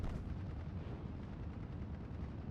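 Artillery fire in the WWII strategy game Steel Division: Normandy 44, a steady low rumble of distant guns and shell bursts rolling on continuously, faint and without voices.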